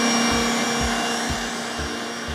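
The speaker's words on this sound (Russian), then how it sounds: "Я их отправляю в дежу миксера, сразу же добавляю сюда сахар и ставлю взбиваться." A stand mixer whips eggs with sugar in its bowl for a sponge cake, giving a loud, steady motor whir that carries on without a break.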